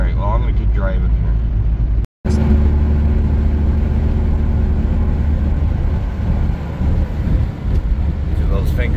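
A car drives through snow drifts during a Minnesota blizzard, producing a steady, loud engine rumble with road and wind noise throughout, cut by one brief dropout, while someone talks from the driver's seat.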